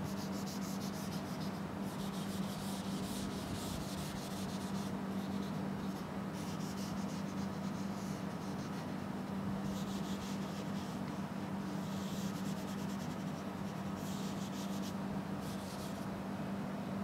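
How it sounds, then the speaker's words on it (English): Eraser rubbing across a board to wipe away a drawn aircraft fuselage, a steady scratchy scrubbing in repeated strokes, close and continuous over a low constant hum, with no speech. "Now let me just erase the fuselage."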